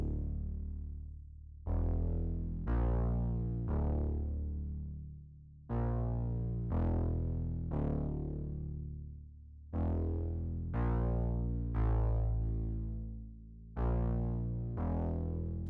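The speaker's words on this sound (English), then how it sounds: "the finished bass line is sounding like this." A finished distorted bass line sample made in FL Studio, EQ'd and in mono, plays as a series of punchy, buzzy sustained notes with sharp attacks and decaying tails, in a repeating rhythmic pattern.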